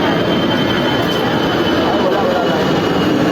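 An LRT train rumbles steadily overhead along an elevated line in Baclaran, a loud, continuous roar filling the whole stretch with no break.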